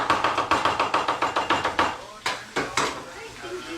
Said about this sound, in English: Chop up some parsley.